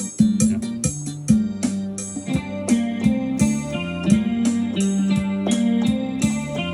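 A Yamaha PSR-E433 keyboard plays a Thai Isan-style rhythm, with a bouncy repeating bass line under crisp percussion hits and a brighter accompaniment pattern, loud and alone.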